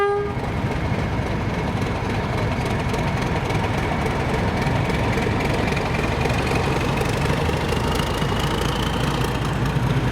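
Class 31 diesel locomotive 31327 shunting at Boat of Garten station on the Strathspey Railway during a diesel gala, its engine droning steadily at a fair distance with a faint tone rising slowly and no speech.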